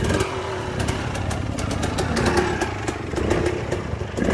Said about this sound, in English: Hey Carl, you love the smell of two-stroke in the morning.